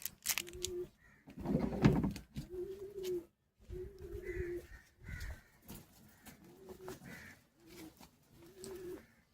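Pigeons coo repeatedly nearby in low, throaty rounded phrases with short pauses between them, along with occasional wing or handling rustles, and no talking.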